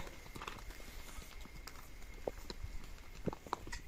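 Bullocks pulling a cart on a road, their hooves clopping in a loose, uneven rhythm at moderate distance over a steady low background rumble.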